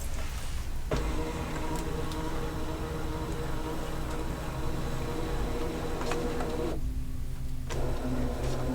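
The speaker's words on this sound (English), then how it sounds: "We're scanning to the machine and we're saying start." A Brother ScanNCut cutting machine scanning a mat, giving a steady, loud motorized whir and hum that runs for several seconds, briefly changes tone, then resumes, close by with no talk.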